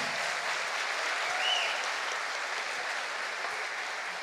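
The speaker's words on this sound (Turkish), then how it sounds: "Ama bu alkış az oldu sanki onlara." Concert audience applauding saz musicians at a solo concert, a steady dense wash of clapping that holds evenly from start to end at moderate loudness, with no voices over it.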